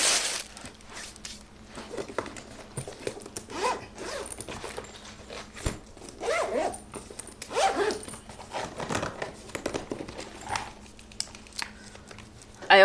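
A makeup case zipper being opened on a couch, with several long zipping runs and bursts of rustling and handling noise spread across a quiet room, and no talking.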